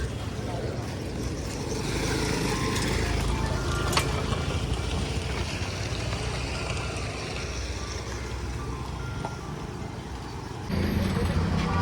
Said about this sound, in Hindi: बहुत ज़्यादा ट्रैफिक रहता है इसमें। ये देखो कितना ट्रैफिक है।